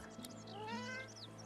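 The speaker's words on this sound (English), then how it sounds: "He stares at the fish and meows" A hungry cat in the video game Divinity: Original Sin 2 gives one drawn-out, rising meow, faint against a steady low background hum.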